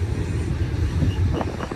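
BNSF SD70MAC diesel locomotive rolling past with a steady low rumble and hum, a continuous nearby pass with a brief brighter rise near the end and no talking.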